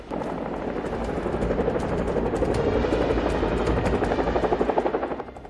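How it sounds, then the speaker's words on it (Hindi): Two British Chinook twin-rotor helicopters flying close overhead, a loud, steady rotor roar with rapid chopping pulses throughout, no talk. "ये हैं ब्रिटेन के चिनूक हेलीकॉप्टर।"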